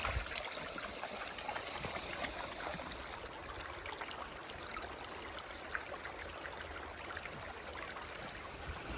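Joshua Creek on a Connecticut hiking trail, a steady soft babbling flow of water over rocks, faint and continuous with no voices.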